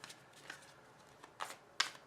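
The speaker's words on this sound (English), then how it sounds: "I'm continuing to shuffle" Tarot cards shuffled by hand, a few soft riffling bursts spaced irregularly and close to the microphone, the last one the sharpest, with no talking.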